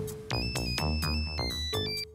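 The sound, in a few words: mobile phone ringtone ringing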